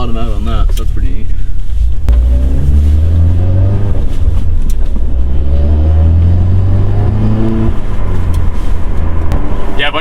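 A 350 HP Mk7 GTI engine accelerates hard on a snowy mountain road, loud and close, with rising and falling revs across several gear shifts under steady road noise.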